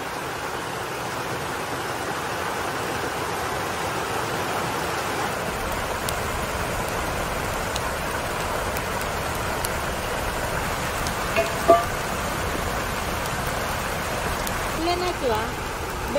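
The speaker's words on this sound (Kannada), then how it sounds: "ಮಳೆ ಕೂಡ ಜೋರು ಬರ್ತಾ ಉಂಟು ನೋಡಿ." Heavy monsoon rain pours steadily outside a kitchen, a dense, even hiss throughout with faint background clatter.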